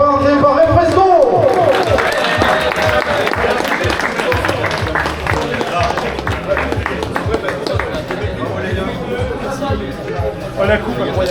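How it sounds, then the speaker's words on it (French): Crowd applause for the winning team at a company football tournament: steady clapping and cheering from a gathered audience, with someone speaking over it on a loudspeaker and chatter around. "Et on peut les applaudir très fort."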